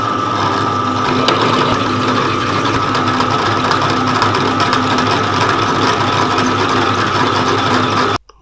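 A drill bores a hole during suspension and ball joint repair work on an Alfa Romeo 75, a loud, steady mechanical whine with rattling that runs unbroken for several seconds before stopping abruptly.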